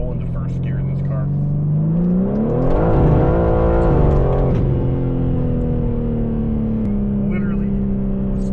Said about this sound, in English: This is what happens if you just roll into first gear in this car.